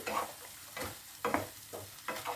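Egg do pyaza masala with a little sugar is sautéed in a pan, three or four soft stirring strokes scraping and squelching over a low sizzle, close and quiet, with no talking.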